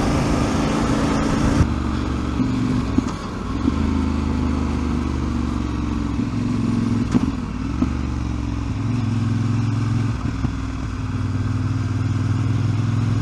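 A Voge 800 Rally motorcycle rides in second gear through a roundabout, its engine a steady, close, mid-pitched drone with light clatter and small throttle changes, heard alone without talk.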